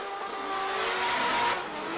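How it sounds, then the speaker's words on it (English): Race cars scream around the oval at Irwindale Speedway during a championship final, a continuous high-pitched engine wail with tire noise that swells and fades slightly as the pack passes, loud and sustained. "Listen to those cars scream as Rome Charpentier flicks into that outer zone"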